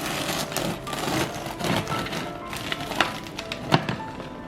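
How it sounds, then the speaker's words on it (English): A knife saws through a crusty artisan loaf, giving a dense, close crackling and rasping texture with sharper splintering snaps as the crust breaks. "so we're going to cut the bread now."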